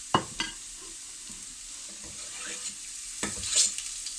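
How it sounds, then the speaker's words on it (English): Garlic frying with cumin and coriander in a pan over full heat: a soft steady sizzle broken by a few sharp spoon-scraping stirs, close and fairly quiet. "Knife, scoop it in, sizzle, sizzle, sizzle."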